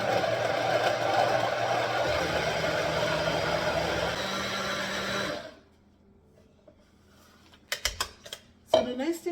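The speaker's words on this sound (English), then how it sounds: "So I'll be blending now." Blender mixing oatmeal, blueberries, plum and hot water, a loud steady whirring for about five seconds that cuts off abruptly, followed by silence and then a few clattering knocks and handling sounds.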